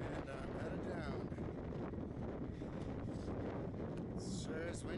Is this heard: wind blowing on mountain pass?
yes